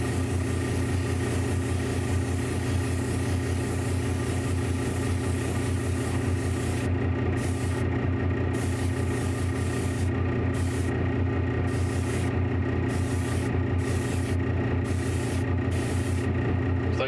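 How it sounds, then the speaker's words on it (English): Steady hiss of an airbrush spraying red paint over sculpted statue pieces, continuous and close, with intermittent bursts breaking up the high end in the second half. "I've got my red mixed up in my airbrush, and now the trick is to get even coverage on all the pieces."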